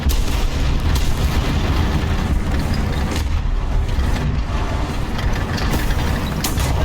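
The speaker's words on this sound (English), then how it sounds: "Here come the bombs." Bombs exploding during a tank battle video game featuring the Churchill Mk. VII, a dense, continuous rumble of heavy booms and blasts with sharp bursts throughout, loud and close, with no talk.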